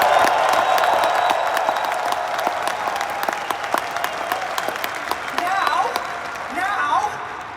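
A keynote audience at Veecon claps and cheers, a dense wash of applause with sharp individual claps and scattered shouts that thins slightly near the end.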